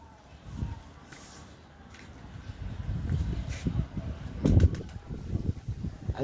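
Pigeons coo in a loft, including an aubergine-colored cock bird. Soft, low, murmuring calls rise and fall against a busy background throughout, growing somewhat louder toward the end.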